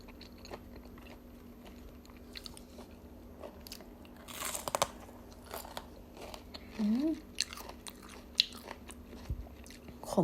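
Fresh raw shrimp served with fermented fish chili sauce is chewed close to the microphone, giving repeated crisp crunching bites and wet mastication against a quiet room, with faint vocal sounds in between.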